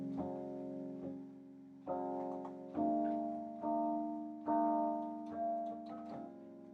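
A sustained plucked chord with the third left out rings out, struck again five or six times at steady intervals, each strum swelling then slowly fading, no voices.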